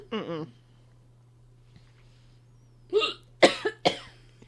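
After a short voice sound and a pause, a few sharp coughs or hiccup-like bursts come close together, loud against near silence.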